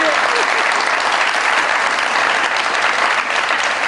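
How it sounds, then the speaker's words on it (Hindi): Loud, dense audience applause from a comedy show crowd, continuous even clapping that holds steady from start to finish with no voices on top. "बहुत सारी तालियां जी"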